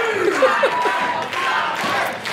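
Crowd at a live wrestling event roars and cheers continuously, with shouts rising out of the steady din.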